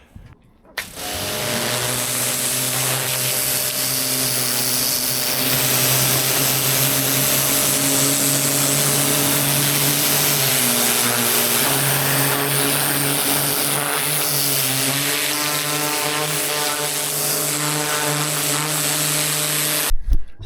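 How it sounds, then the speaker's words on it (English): Battery-powered jet wash pressure washer cleaning a Sailfish 18 boat, a steady loud motor drone with a hissing spray, running nonstop with no voices. "So I've got my jet wash down there, my battery, the hose is ready to go and on."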